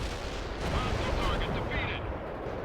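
Artillery barrage in the World in Conflict: Soviet Assault war game, amid incoming mortar fire: a dense, continuous rumble of overlapping booms and blasts that stays loud and steady throughout.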